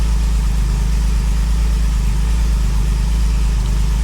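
An older car's engine idles just after starting, a loud, steady, low rumble close to the microphone. The note is even and there are no voices.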